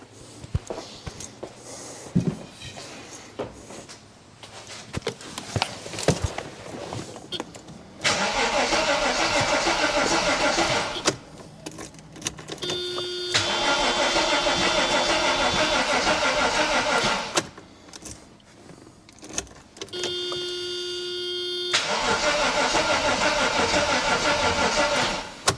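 A Mercedes AMG coupe, unstarted since 2009, cranks repeatedly in several long, loud bursts of starter whir separated by pauses, with a brief rough catch between attempts.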